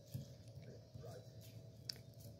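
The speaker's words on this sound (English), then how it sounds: "that's just my dog chewing on a toy" A dog gnaws on a banana toy nearby, soft wet chewing and squishing in an irregular rhythm, faint and close, with a low voice murmuring at points.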